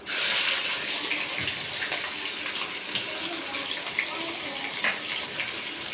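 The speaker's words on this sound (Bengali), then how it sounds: "দিয়ে পেঁয়াজটা লাল করে ভেজে নেব" Chopped onions frying in hot oil with mace for chicken biryani, a steady loud broadband hiss and sizzle throughout with a few small pops and clinks, no talking.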